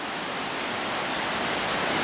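The Siagne, a trout river, rushes steadily in a dense, even broadband wash of flowing water with no pauses, close and fairly loud, no voices.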